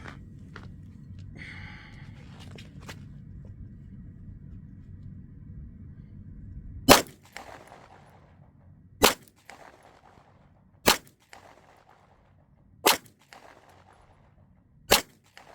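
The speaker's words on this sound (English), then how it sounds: "Okay, do our 5 shots here." Five sharp, loud gunshots fired outdoors, spaced roughly two seconds apart after a stretch of quiet background noise, each with a short echoing tail.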